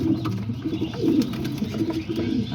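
Jensen homing pigeons coo in soft, low, rolling murmurs, several overlapping bursts close by in a loft, with no talking.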